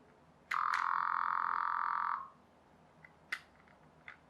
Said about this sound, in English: It makes a bit of a buzzing noise.